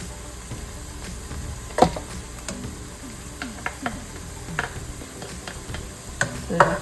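Four cloves of garlic are stirred into sizzling onions for a red lentil dahl, giving a soft steady sizzle broken by spoon clicks and scrapes against the pan, close and fairly quiet.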